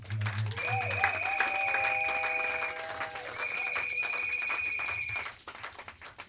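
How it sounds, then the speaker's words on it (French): Church congregation applauding during a sermon, a dense sustained wash of many hands clapping that holds steady for several seconds, overlaid with sustained and gliding electronic keyboard or organ tones. "Acclamons un peu."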